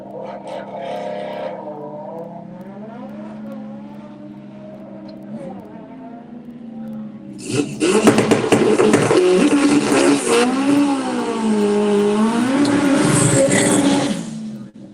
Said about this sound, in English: it looks like it's going to be a solo run for the Audi